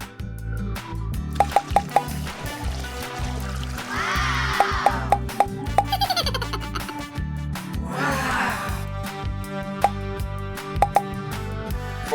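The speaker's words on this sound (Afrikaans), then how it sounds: "kom ons vul hierdie ballonne met water" Water balloons being filled, with repeated soft plops, drips and liquid squishes in a steady run alongside background music, fairly close.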